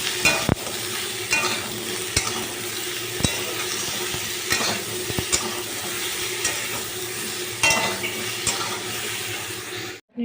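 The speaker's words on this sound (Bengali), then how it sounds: "সেই মতন চালটা ভেজে দিই এটা" Rice frying in a pan while being stirred, continuous sizzling hiss with repeated scraping strokes of a spoon at an uneven rhythm, close and moderately loud, no talking.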